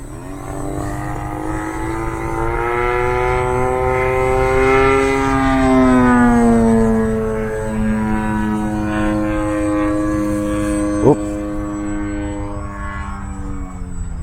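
A UMX Waco RC model biplane on 3S power hovering, its small electric motor a loud, steady buzzing whine that rises and falls in pitch as the throttle changes, heard alone and nearby.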